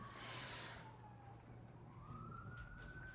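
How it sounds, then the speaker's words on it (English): A siren rises and falls at a distance, a steady faint wail over low traffic rumble with no talking. "Ah, siren."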